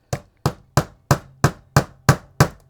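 Soft screwdriver handle whacking a vintage Gabriel/Marx Lone Ranger toy figure, eight sharp evenly spaced knocks in quick succession, close and loud with short decays.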